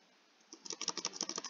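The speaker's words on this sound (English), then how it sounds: "then type set, then type in your internal IP address" Fast typing on a computer keyboard, a quick run of close, crisp key clicks starting after a brief quiet moment, with no talking.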